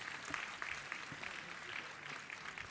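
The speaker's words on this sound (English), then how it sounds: "Kindly give a round of applause, please." Faint, distant applause from an auditorium audience at a school awards ceremony honouring innovation and experimentation awardees, a thin steady patter of clapping with no voices.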